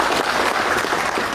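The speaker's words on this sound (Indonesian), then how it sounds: "Tepuk tangan untuk beliau." An audience at an Indonesian national organisation gathering applauds in a dense, continuous patter of clapping heard up close.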